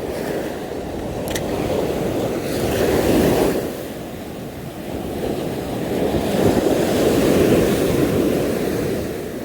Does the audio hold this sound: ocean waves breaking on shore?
yes